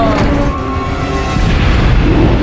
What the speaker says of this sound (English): More running and explosions.